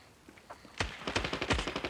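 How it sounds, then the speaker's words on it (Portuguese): Gunfire in the mobile shooter Standoff 2: a few faint scattered shots, then a loud rapid burst of automatic fire with sharp, evenly spaced reports to the end. "eu dei um tiro na cabeça dele"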